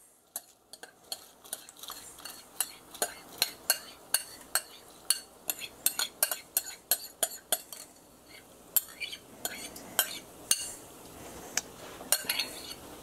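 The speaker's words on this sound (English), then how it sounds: "Give that a stir." A spoon stirring turmeric-coloured rice in a pot for chicken biryani, giving repeated sharp metallic scrapes and clinks in an uneven rhythm, close and fairly loud, with no talk.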